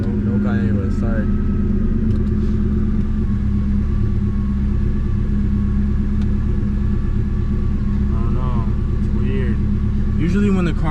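A car engine idles steadily while warming up, giving a constant loud low rumble close by, with people talking intermittently over it.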